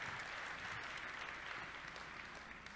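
An audience claps steadily and loudly throughout, a dense sustained applause at a presentation with a murmur of voices underneath.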